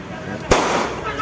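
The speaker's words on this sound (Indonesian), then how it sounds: "Polisi melepaskan tembakan peringatan" A single sharp gunshot from police firing a warning shot while chasing a robbery suspect at a bridge in Depok, Indonesia; one loud crack rises out of steady outdoor background noise and then dies away.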